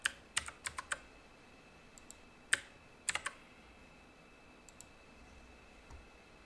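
A computer mouse clicks while network settings for an ESP32 board are configured, sounding as a scattered series of sharp, close clicks in uneven bursts over a quiet room background.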